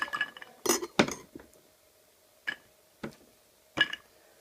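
Ice cubes clink against the sides of an Old Fashioned glass as the cocktail is stirred, giving several sharp, bright knocks with quiet gaps between them, close and clear with no talking.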